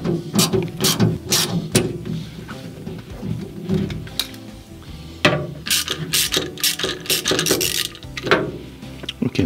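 A hose clamp on a sandblasting cabinet's pressure hose is tightened with a ratcheting tool, giving close, sharp bursts of rapid clicking separated by brief pauses and handling noise.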